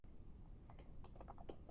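Keys clack on a seenda Bluetooth ergonomic keyboard, several quick faint taps in an uneven run over low background hiss, without any talk.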